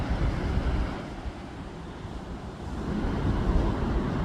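Sea surf at a beach heard from a bicycle on a morning ride, a continuous low rushing wash mixed with wind buffeting the microphone, swelling slightly toward the end, no talking.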